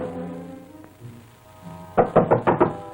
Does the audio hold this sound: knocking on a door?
yes